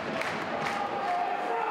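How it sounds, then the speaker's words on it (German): Football fans in a stadium crowd of about five thousand roar loudly as their team heads off at halftime in a German league match, a steady dense wall of cheering and shouting with no break. "Die Fans verabschieden ihr Team stimmgewaltig zum Halbzeit-Tee."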